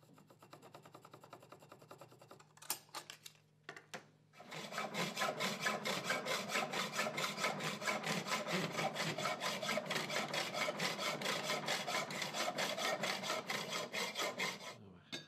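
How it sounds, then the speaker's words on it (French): Small wooden sticks being sawn to size for shelving, a brief handling clatter and knocks, then a loud, steady rapid rasp of back-and-forth hand-saw strokes that carries on without pause. "Sciez 7 bâtonnets par étagère à dimension."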